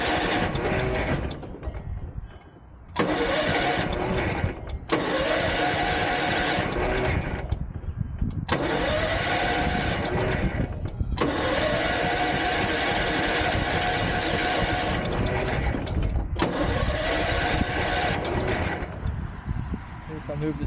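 A 1973 Ariens engine is started repeatedly, with several loud, close bursts of rough running that each cut off into short pauses before it catches again and keeps going.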